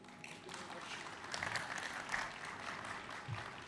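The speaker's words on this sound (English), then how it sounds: "Please give a round of applause." A conference audience at the IoT Solutions World Congress 2024 applauds at the end of a KNX session: a steady, moderately loud patter of many hands clapping together, lasting throughout with a few brief swells.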